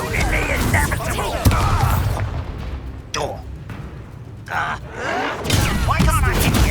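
Incendio fire spells burst in Hogwarts Legacy combat, heavy booming blasts that come in repeated loud bursts with brief gaps between them, mixed with game effects.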